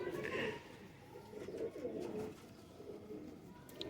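An old Rampuri breed pigeon coos softly in a few low, throaty phrases, close by and quiet, with no talking.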